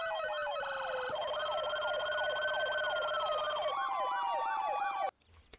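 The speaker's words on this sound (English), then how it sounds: "Maybe they got two different sirens in their cars." Emergency vehicle sirens from the EM4 Upstate New York game mod wail loudly and continuously, two different siren tones overlapping in rising and falling sweeps before cutting off abruptly.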